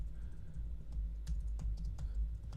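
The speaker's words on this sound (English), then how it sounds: "make sure I type this in" A ChatGPT prompt is typed on a computer keyboard, with soft, quick key taps in an irregular rhythm over a low steady hum, close by and without talking.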